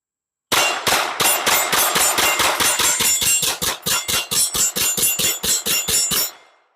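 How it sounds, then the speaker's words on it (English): A Ruger LC Carbine 10mm rifle fires factory ammunition in a rapid string of about two dozen sharp, loud, evenly paced shots, close up, with nobody speaking. "And we just got done with that shooting"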